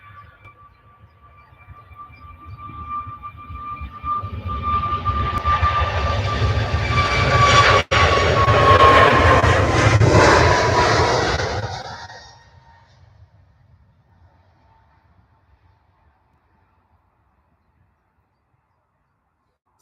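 A jet airliner takes off at Manchester Airport, its roar swelling from a distant rumble to a loud sustained thunder with a whine over it, then fading away to near quiet.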